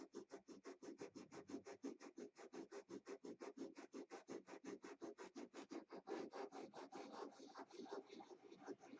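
Rhythmic back-and-forth hand sanding of wood with sandpaper, a steady run of about forty close, even rasping strokes, each a short scratchy burst, with no talking.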